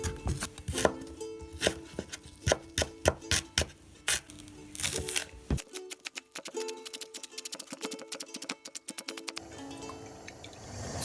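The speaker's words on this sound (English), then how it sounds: "I'm just gonna clean my fresh ginger with a teaspoon." Fresh ginger scraped clean with a teaspoon, a run of sharp close scratching strokes in an irregular rhythm, fairly quiet with no talk.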